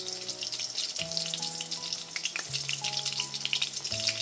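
Chicken pieces fry over a medium gas flame, a steady dense sizzle of hot oil crackling throughout, with faint tonal hums from music sitting underneath and no talking.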